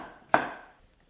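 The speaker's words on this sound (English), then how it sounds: "to create a different texture to the carrot. So I'm going for sort of rough, angled dices." A single crisp knife chop through carrot on a cutting board, cutting rough angled dice; one sharp close thud that fades quickly in a quiet kitchen.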